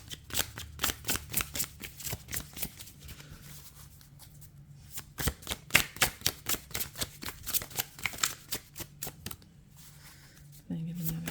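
Tarot cards being shuffled: a long run of rapid, crisp riffling flicks in bursts, close and fairly loud, with a short pause mid-way and a faint voice underneath.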